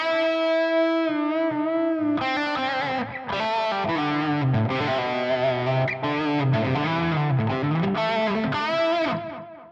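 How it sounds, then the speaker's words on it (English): Electric guitar through a transistor tape delay synced by tap tempo on a Line6 HX Stomp XL, playing sustained distorted melodic lines with echoing repeats trailing each note, steady and loud throughout. "I have the transistor tape delay"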